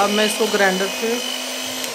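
An electric grinder whirs steadily and loudly while mixing chocolate cake batter made with oil, as someone speaks briefly over the motor hum.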